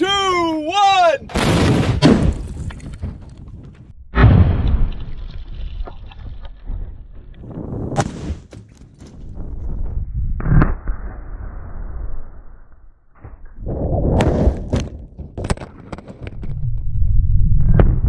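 A tank cannon fires a 17-pound projectile at a safe outdoors, with a single huge close blast, a tail of rumbling echo, and later bursts of wind and handling noise.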